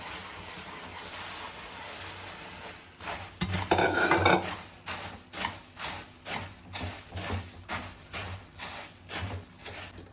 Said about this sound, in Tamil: பொரி போட்டு மிக்ஸ் பண்ணிக்கலாம்